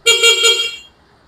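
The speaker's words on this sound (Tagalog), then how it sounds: "busina" A car horn honks in a few quick pulsing toots, loud and close, then cuts off into quiet.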